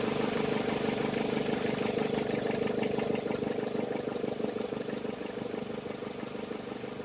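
A car engine idling steadily after being revved, during a radiator stop leak test, a constant low mechanical hum with a faint repetitive knock, slowly easing slightly in loudness.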